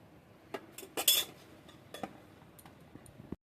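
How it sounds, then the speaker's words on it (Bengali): A utensil clinks and scrapes against a pan as hilsa fish cooked with eggplant is gently stirred: a few sharp metallic taps spread out over several seconds, fairly quiet, with no talking. "এবার আস্তে করে মাছটা নেড়ে দেবো"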